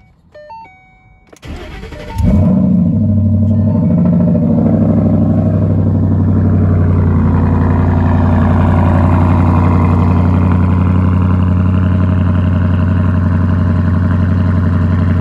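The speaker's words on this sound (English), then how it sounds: "I'm gonna give y'all a cold start." A Ford Mustang cold-starts after sitting unused: the starter whirs briefly, then the engine catches and settles into a loud, steady, rumbling idle close by for the rest of the time, with no talking.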